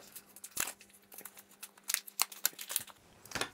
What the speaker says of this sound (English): let's bring in Mr. Scissors and open everything up